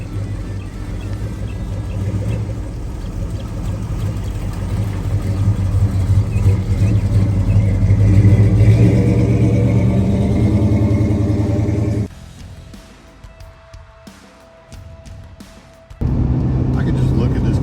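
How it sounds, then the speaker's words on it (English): A 1969 Dodge Charger R/T SE rumbles down the road with a loud, steady engine drone that builds gradually, then drops sharply for several seconds before the roar returns; people talk over it. "I could just look at this car going down the road."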